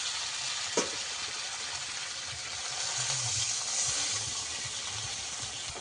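Water poured into a pan of frying fish curry with live rohu, a steady loud sizzle and hiss throughout with a brief splash near the start and low bubbling beneath.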